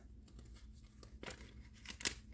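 A paper dollar bill slides into a paper envelope with soft rustling and crinkling, and a brief sharper crackle near the end, very quiet and close, with no voices.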